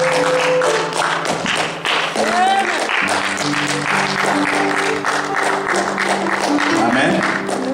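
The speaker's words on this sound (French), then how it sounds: "Acclamez bien pour le Seigneur encore" A church congregation at a Sunday worship service claps and cheers for the Lord, a loud sustained wave of applause under organ or keyboard tones and voices.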